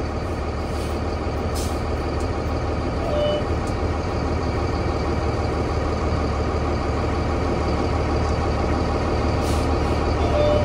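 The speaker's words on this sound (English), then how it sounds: "I'm going to gently brake and make sure that my truck does not pull side to side" A Class B automatic truck rolls forward and brakes gently on its air brakes during a brake check, its engine rumbling steadily and loudly up close throughout, with brief faint hisses of air over the drone.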